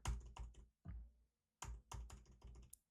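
Keys clack on a computer keyboard in short clustered bursts of typing, close and fairly quiet, separated by brief silent pauses.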